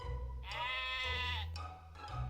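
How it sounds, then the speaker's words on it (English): Sheep bleating inside a shop in the baking game Heartbaked, a long, loud, wavering bleat followed by a shorter second call, close and clear over a low background hum. "Are those sheep in my shop?"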